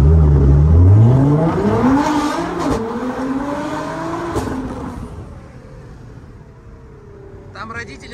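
A gold 1000 hp Nissan GT-R launches hard, its engine roaring loud and close with rising gear sweeps before fading into the distance as voices talk over it.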